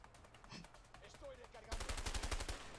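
A rapid burst of automatic gunfire in A Way Out follows a quieter stretch with faint sounds, and the shots ring out loud and close in a tight rhythmic volley.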